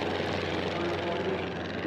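Formula One class racing airplane engine at the Reno air races, a steady droning buzz heard from a distance, fairly faint and continuous.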